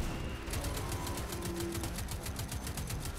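Rapid, evenly spaced gunfire from the Destiny 2 video game, aimed at a world boss's cannons, runs as a steady rattling burst of shots at moderate volume with no talking.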